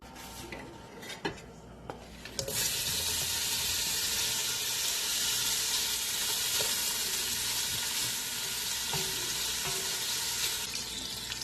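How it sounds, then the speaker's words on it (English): Sausage sizzles loudly in a heated gumbo pot, a steady broadband frying hiss that swells in after a few seconds of quieter kitchen clatter, with a few metallic utensil clinks along the way; no one talks. "I'm going to let the pot start to heat up a little bit, and then I'm going to add my sausage."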